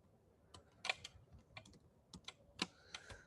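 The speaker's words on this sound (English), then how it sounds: "So now I just start typing it" Computer keyboard typing in short irregular bursts of clicks and keystrokes while writing Android app code, close and fairly quiet with no talk.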